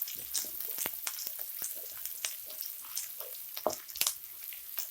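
Chopped ginger, garlic and green chillies frying in two tablespoons of hot oil in a pan for veg noodles, giving a steady soft sizzle with scattered crackles and pops and occasional louder spatters.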